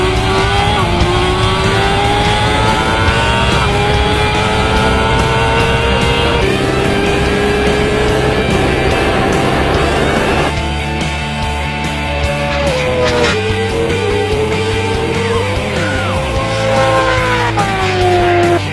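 A BMW S1000RR and a Kawasaki H2R race, engines screaming loud and close as revs climb and drop through gear changes, with tire noise under the sustained roar.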